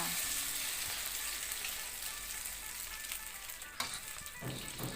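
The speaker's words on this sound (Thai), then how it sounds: "เทใข่ที่ตีไว้ใส่กระทะลงไปเลยจ้า" Steady hiss and sizzle of beaten egg frying in hot oil in a pan, continuous and close, with a few clinks of a utensil near the end.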